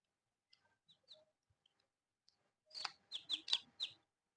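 Sonali chickens about two and a half months old cluck. A few scattered, faint peeps come first, then a close run of four or five quick, loud clucks near the end.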